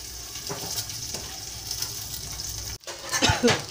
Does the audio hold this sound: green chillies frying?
yes